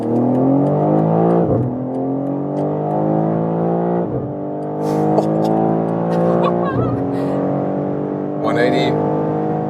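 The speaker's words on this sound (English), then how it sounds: "And now we're starting from 50 kilometers an hour. Let's see what we can score for the acceleration." A BMW M3 Touring accelerates hard on the Autobahn from 50 km/h, its loud engine note climbing steadily in pitch, dropping briefly at each of three gear changes, then climbing again.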